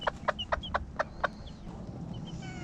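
A former battery hen and her chicks cluck in a yard while catching earthworms. About six short, evenly spaced clucks come close up, followed by softer high peeps against a low background hum.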